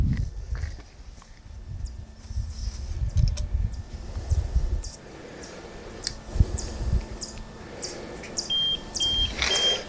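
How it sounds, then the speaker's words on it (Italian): A tire pressure monitor's control unit beeps a short series of repeated alarm tones after a rear wheel sensor is disconnected, thin and evenly spaced over low rumbling handling noise. "dovrebbe emettere dei bip una decina di volte"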